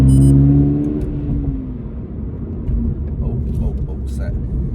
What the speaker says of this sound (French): je vais le mettre en mode manuel. Donc je vais devoir shifter.